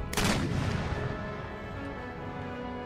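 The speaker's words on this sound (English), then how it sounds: "My howitzers are firing upon this unit of pikes." Howitzer artillery in Empire: Total War booms once loudly near the start, then a long rumbling decay with overlapping distant gunfire trailing behind.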